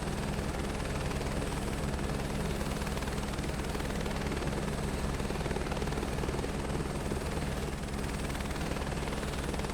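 A helicopter in Microsoft Flight Simulator 2024 hovers with a loud, constant rotor and engine drone that stays even and close for the whole stretch.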